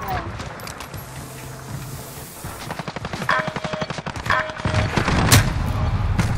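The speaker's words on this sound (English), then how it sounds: "there's like three people shooting at me at once" Gunfire in Modern Warfare from several players at once, dense rapid bursts of automatic shots rattling faster and louder toward the end, with a voice talking over the firing.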